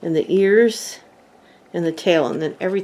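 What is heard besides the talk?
No everyday noises stand out.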